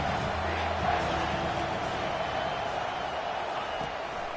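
A college football stadium crowd for Clemson vs Michigan roars as a dense, sustained wash of noise on third down, loud and building with no single voice standing out.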